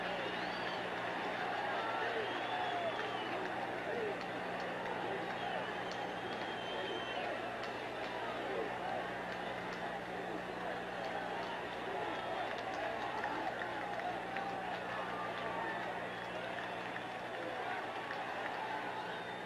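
A 1977 Yankees baseball stadium crowd yells in a steady, dense roar that runs throughout, loud and sustained, with a broadcaster's voice heard over it.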